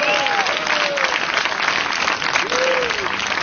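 Sustained crowd applause rises for a drummer at an outdoor concert in Parc Émile Gallé, thick and even clapping with scattered whistles cutting through.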